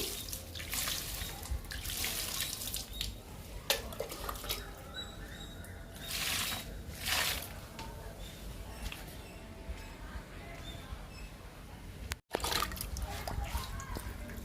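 Liquid fertilizer is poured from close by onto croton plant cuttings in a pot, making a steady trickling, splashing flow that runs for several seconds with small drips and a brief break near the end.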